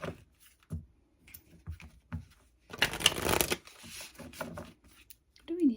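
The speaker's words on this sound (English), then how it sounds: "Let's do a daily draw from the deck." Cards from an oracle deck being shuffled and drawn by hand, a soft papery riffle and brief slide near and quiet, with scattered light taps around it.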